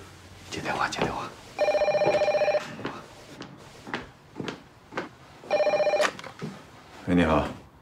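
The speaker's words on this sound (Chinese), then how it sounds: "接电话，接电话。" Telephone ringing in two loud electronic bursts, each about half a second, with people talking before, between and after the rings.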